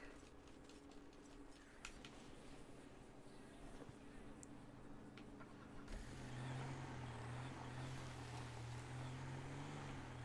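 Truck backing up in GTA 5, a low engine hum that swells into a louder, steady drone midway, with faint voices in the background.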